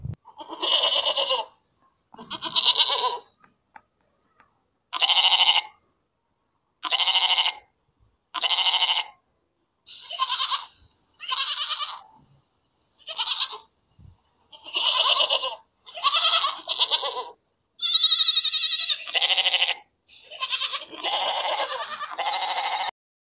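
Goat bleating again and again, about twenty separate nasal bleats of a second or so each, loud and close, with short silent gaps between them and no talk.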